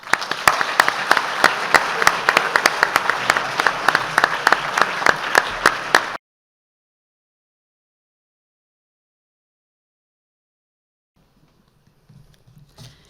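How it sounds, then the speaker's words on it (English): Audience at a school sports awards ceremony clapping steadily for about six seconds, a dense indoor round of applause, then near silence with faint movement at the end. "you to show your appreciation and hearty round of applause"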